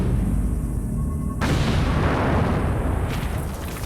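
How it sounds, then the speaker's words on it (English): An ammonium nitrate and fuel oil charge detonates with a sudden heavy blast that rolls into a long, dense roar of debris and rumble, loud and sustained for several seconds. "we're using ammonium nitrate mixed with fuel oil. So when we set it off, it's going to explode and make a huge crater."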